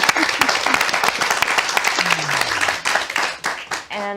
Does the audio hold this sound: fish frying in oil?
no